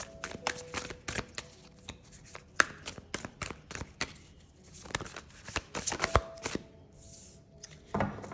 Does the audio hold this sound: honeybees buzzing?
no